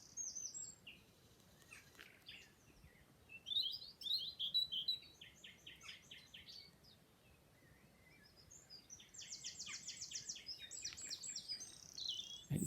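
A secretive, endangered bird calls in woodland with bursts of high chirps and trills, some clustered and rapid, others spaced apart, fairly faint and distant over a quiet background.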